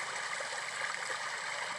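River ambience played from a relaxation app: a steady, even rush of flowing water, continuous and moderately quiet throughout.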